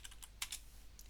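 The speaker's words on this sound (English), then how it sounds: "all I need to do is to type Jupyter" Quiet keystrokes on a computer keyboard, a handful of light clicks in quick succession over a faint background hum.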